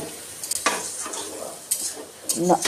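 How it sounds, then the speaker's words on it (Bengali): Close, fairly quiet stirring of water lily (shapla) curry in a pan, with a few scraping and clinking strokes of a spoon over a soft sizzle. "আর অল্প একটু সময় আমি নেড়ে চেড়ে"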